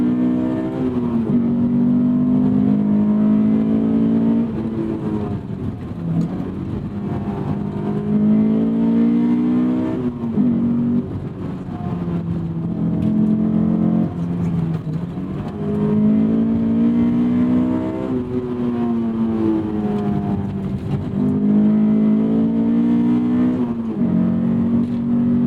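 A Honda S2000 AP2 sports car, almost 20 years old with about 100,000 miles, revs hard while driving, its engine note climbing and falling through repeated gear pulls, loud and close throughout.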